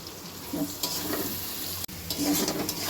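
Cumin paste and chili powder frying in a pan while being stirred, a moderate sizzle with scraping strokes of the spoon and a brief dropout midway.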